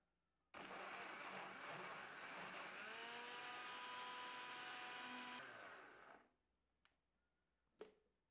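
A kitchen blender purees dates with milk, starting abruptly and running loud for about five seconds, its whir shifting in pitch as the mixture thins, then stopping, followed by a couple of faint clicks.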